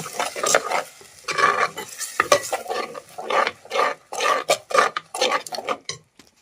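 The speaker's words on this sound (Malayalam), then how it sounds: "നമ്മുടെ ഈ പൊടികളെല്ലാം കൂടി അരച്ച് വെച്ചിരിക്കുന്നത് ആ അടുപ്പിലിരിക്കുന്നതിലേക്ക് ഒഴിക്കാം" A ground spice paste is poured into a pot on the stove and stirred, giving rhythmic bursts of scraping and swishing against the pot with faint sizzling between strokes.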